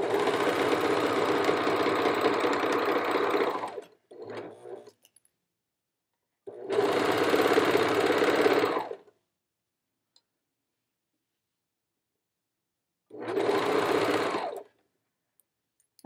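A sewing machine runs in three bursts of rapid, steady stitching, with a short stutter and silent pauses in between.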